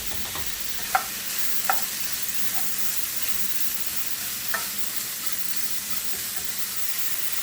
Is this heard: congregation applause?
no